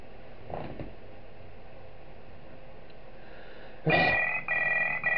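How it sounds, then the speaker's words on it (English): A telephone rings in the horror video game Five Nights At Ethan's, starting after a quiet stretch with a faint breath, then one loud, close electronic ring followed by a second ring. "Alright, we get a phone call."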